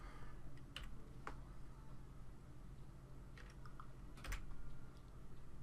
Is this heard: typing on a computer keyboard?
yes